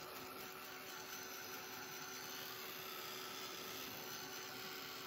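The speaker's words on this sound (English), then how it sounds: "we can take our heat gun and dry it." A heat gun blows with a steady, even roar as it dries a paper mushroom craft, running continuously and loud with no talking.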